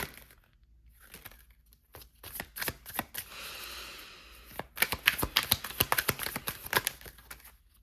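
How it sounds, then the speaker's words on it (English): Tarot cards being shuffled by hand: soft riffles at first, then a quick burst of crisp, close card snaps and flutters, with no talking. "We're going to keep shuffling."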